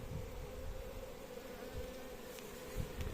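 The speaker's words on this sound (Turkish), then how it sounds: "kovan deli önünde huysuzlanan ve biriken arılar" A dense, steady drone of many honeybees buzzing close by at a hive entrance, continuous throughout with a few louder bursts near the end.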